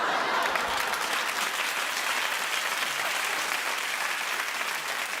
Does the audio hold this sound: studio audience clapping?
yes